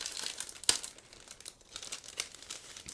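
A thin plastic bag holding clear parts for a 1/35 scale ICM Kadett K38 Cabriolimousine model kit is opened close up, with repeated soft crinkles and one sharp crackle, and no talking.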